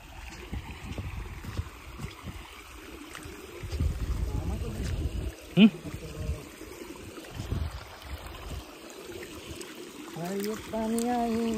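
Water flowing and trickling outdoors along a path during the Konkan monsoon, a soft continuous wash with a few brief splashes, heard under people talking.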